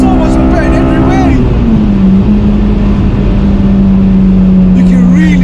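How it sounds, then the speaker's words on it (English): A 2006 Honda Civic EP3 Type-R, stage 2 with an induction kit, revs loudly and climbs into VTEC. The intake note is a close, steady drone, and voices can be heard over the engine. "You can really hear the VTEC."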